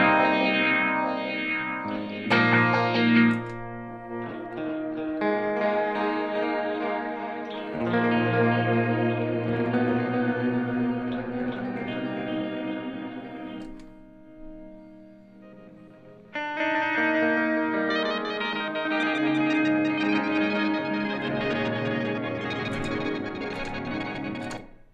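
Guitar played through a PBC10 multi-effects pedal setup with heavy modulation and chorus effects, a shimmering, layered tone with a brief quieter dip before swelling back strongly.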